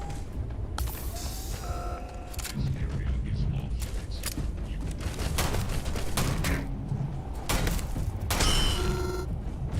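Gunfire in the video game Starfield, repeated loud bursts of shots and booms in rapid volleys over a dense, continuous combat background, with someone talking intermittently.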